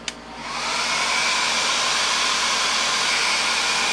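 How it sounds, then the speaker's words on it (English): A hair dryer switches on with a brief click and then roars steadily at close range, a loud continuous whoosh with no talking. "they were going to get all freaked out by the hairdryer"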